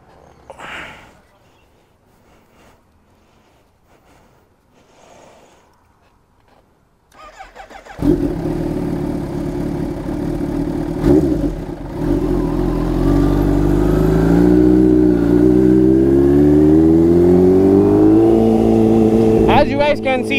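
A Kawasaki Ninja H2 motorcycle engine fires up loud and close after a quiet stretch, then idles and revs with rising, falling pitch, a sharp burst near the end.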